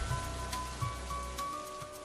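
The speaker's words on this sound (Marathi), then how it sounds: "असं वाटतंय की हा पाऊस थांबूच नाही." Steady rain falls in a soft, even hiss with occasional drip-like taps, with no voices.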